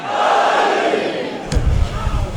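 At a religious Eid al-Adha gathering, a large crowd roars a slogan reply in unison, a loud sustained mass shout that fades into scattered voices and background rumble.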